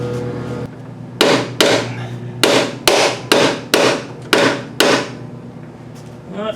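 Hammer blows tapping a long bolt into a car's front suspension while replacing front end parts: eight sharp metallic strikes in a steady rhythm, close and loud, with no talk.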